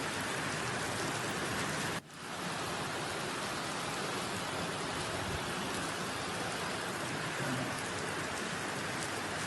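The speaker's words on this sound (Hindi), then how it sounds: "देखिए मूसलाधार बारिश का ये सिलसिला जारी है" A heavy downpour of unseasonal rain over farmland in Madhya Pradesh roars as dense, steady hiss, broken by one sharp brief dip early on before the torrent continues unabated.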